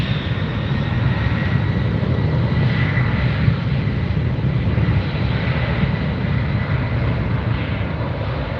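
A Delta airliner passes close by at LAX, its engines a loud, steady broadband roar that holds throughout with no speech over it.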